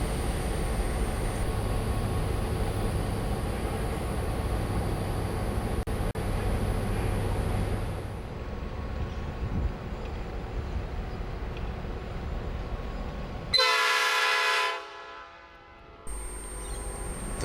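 Three diesel locomotives, a 42 class with GM10 and S137, rumble past in the New South Wales countryside, a steady heavy drone followed by a loud, piercing train horn blast, with no talking.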